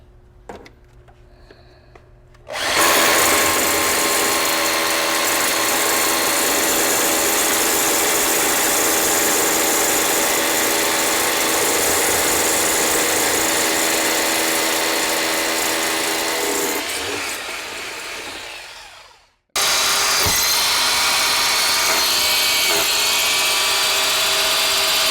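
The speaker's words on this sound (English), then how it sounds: "now that we're done drilling the holes" A loud power drill whines continuously as it bores into concrete, running steadily for about fifteen seconds, winding down briefly, then starting again.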